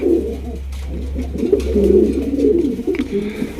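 Pigeons coo softly and repeatedly close by at a pigeon farm, their low throaty calls overlapping over a steady low hum.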